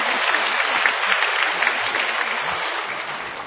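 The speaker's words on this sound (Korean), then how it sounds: "박수 한번 해주세요." A church congregation applauds during a missionary's testimony, producing a thick, steady roar of clapping that stays loud and even throughout with no voices on top.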